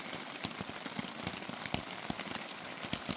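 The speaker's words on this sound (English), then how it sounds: "The rain sounds nice." Steady rain at a campsite in Roman ruins patters nearby, a dense hiss with scattered distinct drops tapping on a surface.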